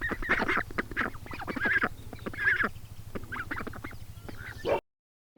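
Farm ducks honk and quack loudly and close by, a busy run of overlapping calls at a rapid rhythm that breaks off abruptly into silence near the end.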